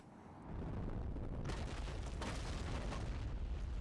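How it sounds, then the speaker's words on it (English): An explosion in the video game Bayonetta, a loud sustained roaring blast that swells in after half a second, with sharper bursts around 1.5 and 2.2 seconds, filling the rest of the clip. "Oh, there was going to be an explosion."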